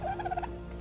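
A terror bird in the Ark video game gives a short, warbling, gobble-like call of several quick pulses, close and moderately loud, heard alone.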